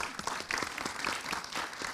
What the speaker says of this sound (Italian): we want to make a big round of applause to all the entities supporting us